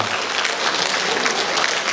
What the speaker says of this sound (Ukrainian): Ваші оплески Наталі Вайні.